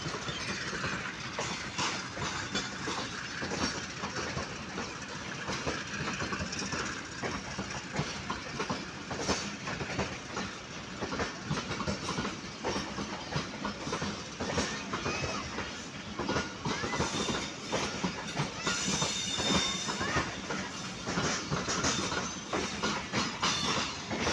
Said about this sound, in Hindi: हज़ारा एक्सप्रेस अलेवन अप हजार express P H A twenty तिरासी सत्रह के साथ मलकवाल से रवाना हो रही है